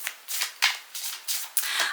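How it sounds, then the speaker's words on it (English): A tarot deck being shuffled by hand, with repeated crisp papery riffles and card flutters in quick bursts, close and moderately loud, no voices. "So let's give this beautiful deck a shuffle."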